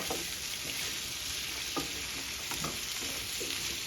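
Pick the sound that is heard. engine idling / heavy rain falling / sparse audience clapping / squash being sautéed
squash being sautéed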